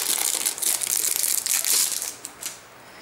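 A plastic wrapper crinkles continuously as a tiny notebook is unwrapped, loud and close crackling that eases off near the end.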